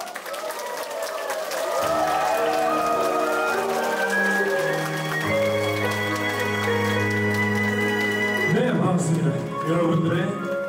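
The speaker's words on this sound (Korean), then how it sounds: "박수 주세요." A studio audience claps warmly for a singer being introduced on a Korean sing-along music program, steady applause running throughout while music plays.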